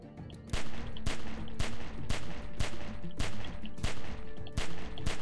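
Gunfire from The Walking Dead game rings out as a steady series of loud, sharp shots at roughly regular intervals, close and dominant, with no voices over it.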